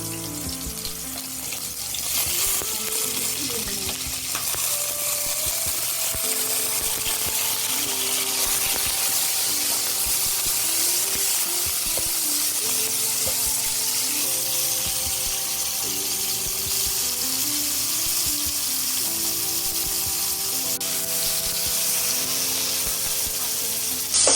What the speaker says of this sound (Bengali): এবার এতে আমি মাছগুলোকে একটু ভেজে নেব।